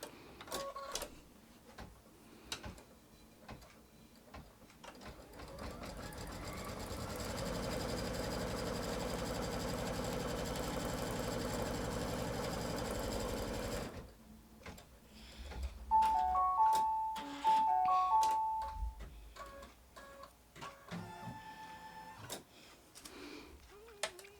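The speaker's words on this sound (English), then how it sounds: "let's fold this back, press it, and we'll stitch" A sewing machine stitches a quilt block in the embroidery hoop, a steady mechanical whir for several seconds, then clicks, ticks and short electronic beeps, fairly quiet and close.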